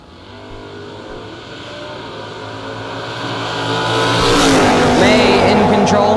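A sticker dragster makes its drag racing run, the engine roar building steadily from moderate to loud as the car accelerates and passes close, with a track announcer talking over the noise.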